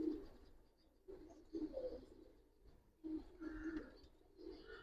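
Homer and Giribaz pigeons in a loft coo in soft repeated phrases, low and close, with a few bursts rising over a quiet background.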